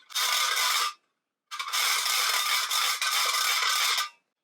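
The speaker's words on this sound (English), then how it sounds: "this one has a plastic crank, and so it sounds like, I may regret this, but it sounds like this." A vintage Halloween noisemaker with a plastic crank rattles loudly and harshly in two cranked bursts, a short one and then a longer one after a brief pause, with no talking.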